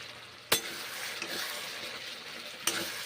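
Bora fritters being fried and stirred with salt, turmeric and dried fenugreek leaves in a pan, a continuous close sizzle with two sharp clinks of a spoon against the pan and gentle scraping between them.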